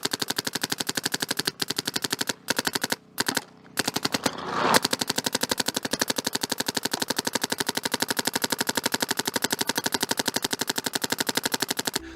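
Rapid, steady automatic firing of a Geo 3.5 paintball gun close by, a continuous stream of sharp popping shots with a few brief pauses and a rising hiss midway.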